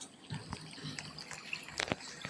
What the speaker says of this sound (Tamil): தண்ணி சத்தம் நல்லாயிருக்கு.